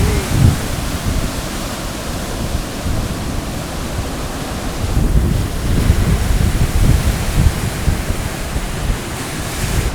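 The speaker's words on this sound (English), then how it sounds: "Look at those waves." Ocean surf crashes and churns on a windy coast at Sesimbra, Portugal, a loud continuous wash with wind buffeting the microphone and no voices.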